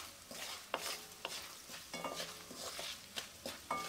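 A spatula scrapes and stirs potatoes frying over low heat with garlic, chili and spices in a pan, the sizzle steady beneath repeated sharp scraping strokes, close and moderately quiet, with no talking.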